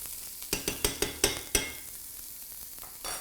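Meat for a French meat pie cooking in a pan: a run of six sharp spatula taps or scrapes against the pan over a soft sizzle, then a quiet gap and a brief rustle, close, with no talk.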